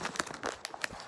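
Crinkly plastic wrapper on Japanese candy being pulled open up close, a series of sharp irregular crackles and crumpling bursts in quick succession with no voices.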